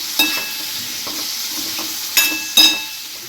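Citron pickle being mixed in a pan: a steady background sizzle with a few sharp scraping knocks of the spoon against the pan, close and fairly loud.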